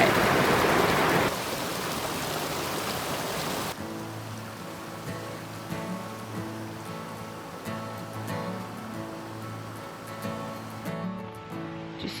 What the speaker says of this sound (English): The stream is phenomenal. There's all these little mini waterfalls.